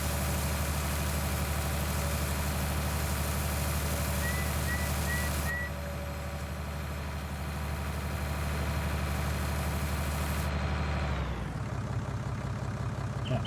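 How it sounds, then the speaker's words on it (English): A cereal mill mixer machine in Farming Simulator 19 hums and rumbles steadily for a long stretch, making pig food, then winds down near the end; a few faint chirps come briefly midway. "The mixer is running,"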